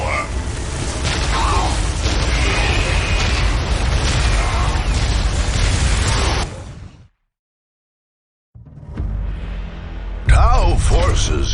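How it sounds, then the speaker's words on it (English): Orbital bombardment explosions in Dark Crusade strategy game, a dense roaring barrage of blasts for several seconds, then a short silence and renewed rumbling with a sharp boom near the end. "This area must be cleansed with orbital fire."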